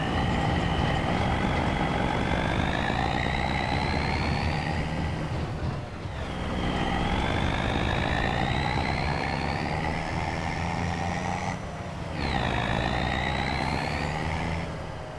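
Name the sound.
vehicle engine in video game Farming Simulator 25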